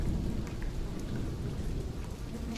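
Steady, heavy rain pours down without a break in the video game The Pillars of the Earth, a dense hiss of drops with a faint low rumble beneath.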